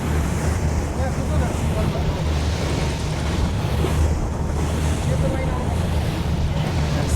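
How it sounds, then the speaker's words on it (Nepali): Sea water surges and flows at Benagil cave in the Algarve, a continuous loud roar of surf mixed with heavy wind buffeting the microphone, with no clear speech. "पानीको छाप, पानीको बहाव माथि माथि बगिरहेको छ"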